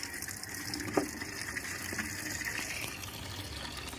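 Water runs steadily for washing clothes at home. The gushing flow is continuous and close, with a faint splash partway through and no talk.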